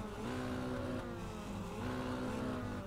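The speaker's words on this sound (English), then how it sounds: "now I can't because everybody's revving their engines up" Several race cars in a racing video game rev their engines together, a loud continuous droning roar with layered rising and falling engine tones, heard alone.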